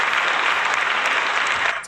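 A short burst of audience applause, dense steady clapping that holds for a couple of seconds and then tapers off.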